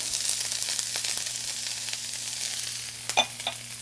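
Chopped onions and carrots fry in hot oil in a pan, giving a steady close sizzle broken by a few soft stirring clacks near the end.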